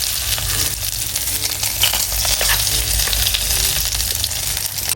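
Chicken frying in a pan with its skin rendering down: a loud, continuous crackling sizzle close up with dense popping spatters, no one speaking.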